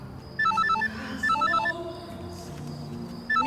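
A telephone rings in a dramatic action film scene, playing a repeating electronic melody in two or three short bursts separated by pauses, heard clearly over a low room background.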